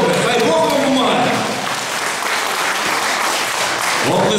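An audience at a charity music concert applauds a band: loud, dense clapping that stays full throughout, with some crowd voices mixed in.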